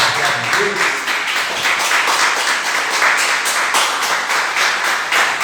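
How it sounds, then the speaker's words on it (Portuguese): A church congregation claps in sustained, even applause, dense and continuous throughout, with a faint murmur of voices underneath. "Podemos dar uma salva de palmas para Deus?"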